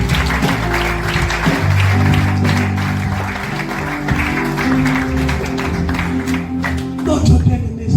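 A church congregation applauds during a sermon, with steady, dense clapping and cheering filling the room while voices and a sustained musical drone carry underneath.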